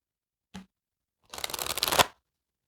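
A short card riffle, then a longer burst of oracle cards being shuffled at close range, quick crisp flutters building to a final snap, with no voices.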